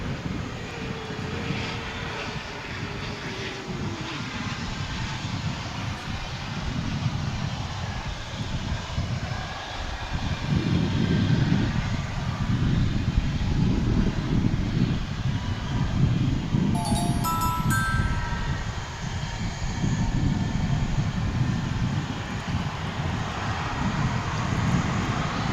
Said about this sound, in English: here comes the flight from El Paso. It looks like this one's coming in on 18 left